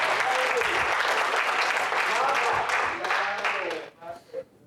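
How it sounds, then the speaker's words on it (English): A church congregation at an Apostolic assembly claps hands in praise, a loud sustained burst of applause with voices and singing woven through that fades out near the end. "Come on, clap your hands and do the Lord."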